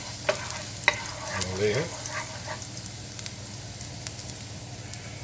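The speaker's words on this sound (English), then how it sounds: "now we're going to add our garlic and onion." Garlic and onion fry in a pan for cashew chicken, a soft steady sizzle with occasional stirring scrapes and clinks while a person speaks briefly.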